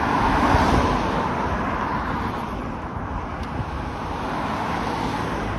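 A New Flyer Excelsior electric bus passes on a city street, a steady road and tire rush with wind buffeting, continuous traffic noise that stays fairly loud without a sharp peak.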